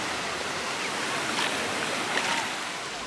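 Steady broadband wash of ocean surf at a beach, continuous and fairly close, with faint swells of breaking water and no clear talk.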